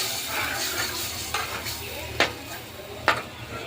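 A sizzling tempering in a pan with buttermilk going in for a dhokli vegetable curry, a continuous frying hiss broken by a few sharp clinks of a utensil against the pan.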